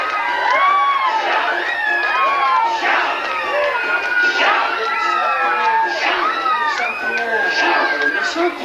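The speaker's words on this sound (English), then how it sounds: "when we say shout, I want to hear all of you scream like this." A large crowd at a Six Flags Great Adventure stage show in 1999 shouting and screaming in repeated loud bursts, many children's voices whooping and cheering together in waves.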